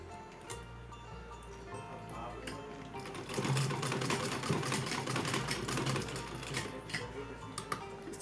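A sewing machine stitches fabric for a small Laddu Gopal doll dress, its rapid clattering needle running steadily and growing louder midway, with no talk over it.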